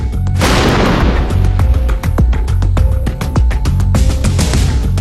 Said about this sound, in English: There was a huge release of energy in both those two explosions.